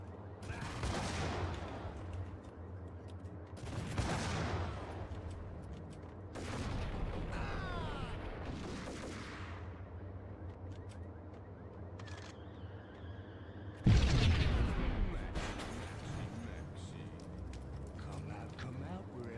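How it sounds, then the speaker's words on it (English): Grenade launcher fire and explosions in a video game, several loud broadband bursts spaced a few seconds apart with one sharp, heavy blast near the end, over continuous game noise and talk. "I'll just do it the grenade launcher way."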